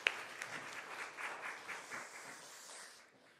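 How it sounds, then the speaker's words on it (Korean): Church congregation applauding during a Sunday morning service at a Korean church in Chile, a fairly faint, steady patter of many hands that tapers off near the end. "우리 믿음을 굳세게 하실 하나님께 다시 한번 영광의 박수 올려드리겠습니다."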